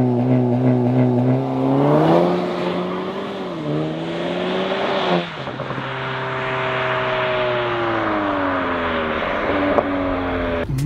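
A 2.0 turbo Audi TT 8S revs repeatedly, its engine note climbing and falling in steady harmonic sweeps with a brief dip midway, loud and close throughout with no speech.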